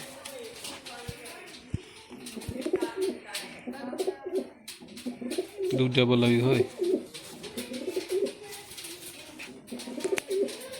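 Domestic pigeons coo repeatedly, rounded throaty calls most prominent around the middle, while someone talks over them in Punjabi and other voices chime in nearby.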